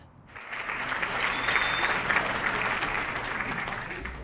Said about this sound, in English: The crowd cheers as a comedian takes the stage.